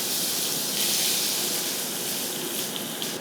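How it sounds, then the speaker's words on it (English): Cumin seeds splutter in hot oil and chopped onions go in, making a steady, moderately loud frying hiss that swells slightly as the onions land, with no talking. "Let the zeera splutter. And I immediately add chopped onions."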